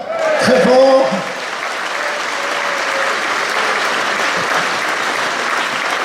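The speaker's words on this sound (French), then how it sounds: "Je pense qu'on peut l'applaudir très fort." Sustained applause from an audience at a 2016 event in Conthey, steady and fairly loud throughout, with a brief voice heard near the start.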